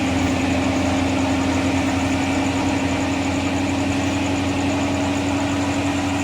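Hino 500 truck diesel engine running in stock factory condition, a steady loud mechanical drone with a strong low hum, heard alone at close range with no talk over it.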